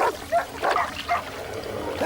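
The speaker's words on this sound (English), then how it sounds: "With sharp claws and powerful teeth, the dogs are formidable enemies." Dogs barking and yipping at a cobra in a short burst of several sharp yelps and whimpers, close and fairly loud, with no speech.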